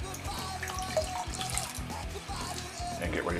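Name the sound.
water running from tap while wetting face before shaving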